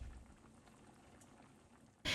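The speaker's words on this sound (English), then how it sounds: "And then I just boil my noodles in salted water, and in this case I was using gluten-free." Gluten-free pasta noodles boil in a pot of salted water: a soft, continuous bubbling and simmering, quiet and close, ending in a sudden louder burst of noise.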